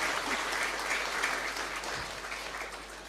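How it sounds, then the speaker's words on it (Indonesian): Audience applause at an Islamic religious lecture, a soft, even patter of clapping from the crowd that gradually tapers off. "boleh beri tepuk tangan sekali lagi untuk Ning Sheila."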